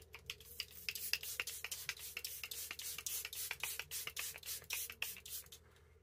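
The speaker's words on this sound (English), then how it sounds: "I'm actually going to take a setting spray" Quick bursts of a makeup setting spray pump hiss in a rapid, uneven series, close and quiet, with no voices.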